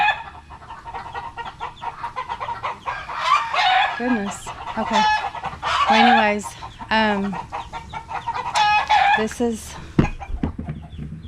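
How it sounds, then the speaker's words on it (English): A neighbor's chickens cluck and many roosters crow repeatedly from a moderate distance, a busy overlapping flock on a homestead, while a person speaks briefly in the foreground. "I think that's our neighbor's chickens and roosters. They have a bunch of roosters, and so they are noisy."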